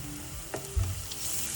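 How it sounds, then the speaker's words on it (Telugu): Ginger garlic paste and green chillies fry in hot oil for a dhaba style chicken curry, a soft steady sizzle with a couple of brief stirring knocks, close and without talk. "అల్లం వెల్లుల్లి పేస్ట్ అనేది పచ్చివాసన పోయేంత ఫ్రై చేసుకోవాలి"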